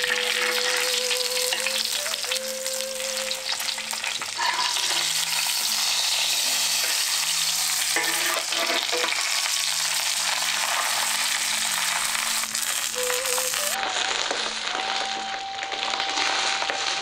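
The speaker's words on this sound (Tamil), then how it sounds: "இப்ப வாழை இலையில வச்சு கட்டின இந்த மீனையும் கல்லு மேல போட்டு சுட்டு எடுத்துக்கலாம்" A banana-leaf-wrapped karimeen fish roasts on a hot stone, giving a steady, loud sizzling and crackling that runs unbroken the whole way, with occasional faint clinks.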